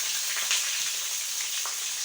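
Onion frying in hot oil with curry leaves, a steady close sizzle that crackles and hisses without break, with a faint stir partway through.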